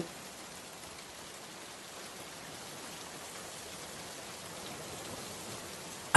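Rain falling as a cartoon sound effect, a soft, even hiss of steady rainfall at low volume that ends in a brief click.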